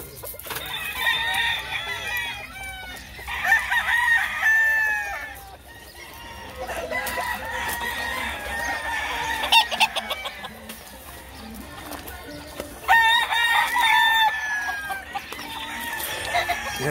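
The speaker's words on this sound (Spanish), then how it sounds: "Los gallos de Edwin Valerio dan la talla donde quiera que van." Fighting cocks crow again and again, several loud, drawn-out calls with clucking between them in a rooster yard, near and clear, with a faint murmur of voices in the background.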